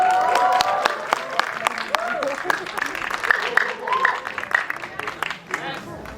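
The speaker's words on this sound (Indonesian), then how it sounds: "Mari kita beri tepuk tangan yang meriah dulu buat produser Ernest Prakasa" Lively audience applause for a film producer at a movie launch event, with sharp claps and cheers mixed with crowd chatter and an announcer's voice, building and fading over several seconds.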